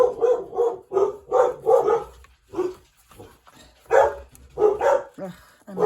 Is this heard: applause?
no